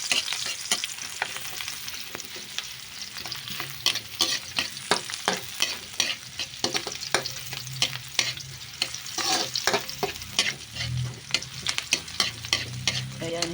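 Garlic frying in a pan for creamy sopas, with a steady sizzle broken by repeated scraping and stirring strokes of a utensil, close and fairly loud, with no voices.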